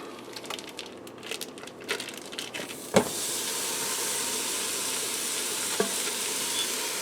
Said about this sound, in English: when this is done frying